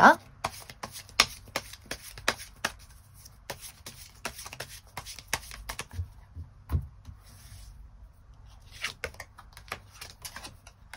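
Tarot cards being shuffled and handled up close, with a rapid series of crisp papery riffles and taps that come in uneven bursts and short pauses.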